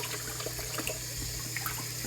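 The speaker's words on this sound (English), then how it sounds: "So give them a good rinse. Nice lukewarm water." Lukewarm tap water runs steadily while a Portuguese Water Dog puppy is rinsed during a bath, a faint continuous splashing flow with no talking.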